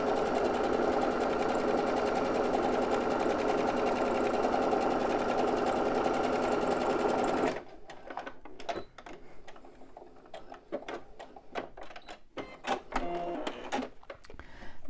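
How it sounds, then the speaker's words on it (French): A sewing machine topstitches a linen fanny pack in a fast, continuous run of stitching for about half the time. It then stops, leaving quiet handling clicks and rustles. "je refais une petite surpiqûre"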